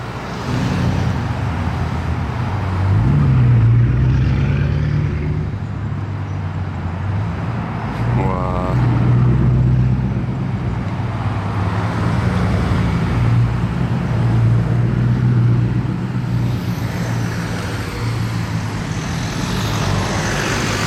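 A convoy of Bugatti cars, including Mistral models, drives through a village, heard as a continuous loud engine and road rumble that swells and fades as vehicles pass, with a brief horn-like tone and faint voices nearby.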